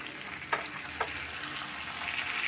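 Watery onion paste and green chillies fry in a pan on a gas stove, a steady close sizzle broken by two quick stirring scrapes early on.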